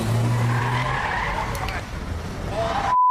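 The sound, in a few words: stolen car driving, tires skidding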